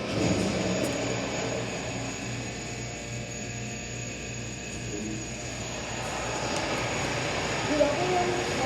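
Elevator machinery hums in a hotel machine room, a steady low drone with a faint high whine that rises slightly near the end, running on without a break.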